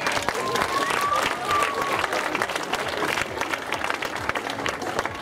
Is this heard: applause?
yes